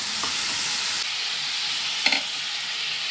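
Marinated chicken with tomato poured into hot oil sets off a loud, steady sizzle that shifts abruptly about a second in, then keeps hissing close up, with one brief clunk partway through.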